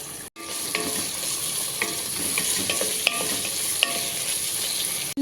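Two tomatoes sizzle in hot oil with fenugreek seeds in a pan while a curry is being made, giving a steady frying hiss broken by occasional stirring clicks and scrapes, with no talking.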